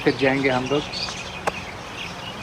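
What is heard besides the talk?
small birds chirping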